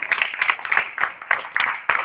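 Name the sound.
concert audience applause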